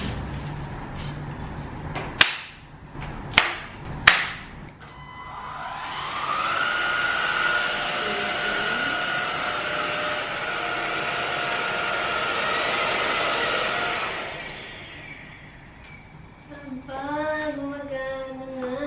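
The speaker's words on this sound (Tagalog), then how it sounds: "Then yung vacuum mismo." A compact vacuum cleaner with a touchscreen power button switches on and runs steadily for about ten seconds, then winds down. It follows several sharp clicks and comes before brief rising whirring tones near the end, and no one talks.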